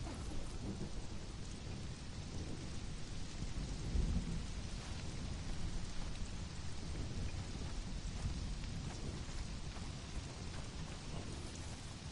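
Steady rain patters densely in the Conan Exiles video game, with a low thunder rumble swelling around the middle, continuous and fairly quiet throughout without any talking.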